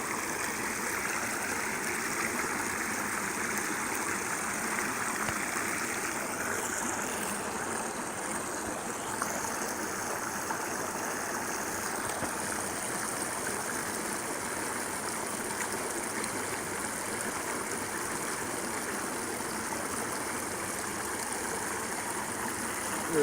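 Water swirls and sloshes steadily in a gold pan as material is worked down at a small creek, a continuous soft wash of running water with no talking.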